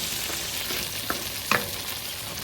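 Tomato and onion sauté in a pan over medium heat, a steady close sizzle with a couple of brief spatula scrapes or pops, no voices.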